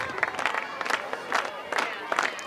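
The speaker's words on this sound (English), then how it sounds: "This slow clap always gave me the worst anxiety on the mound" Crowd at a college softball game, Michigan against Minnesota, doing a slow clap: spaced, accelerating-free claps in a regular rhythm roughly every half second, moderately distant with crowd murmur underneath.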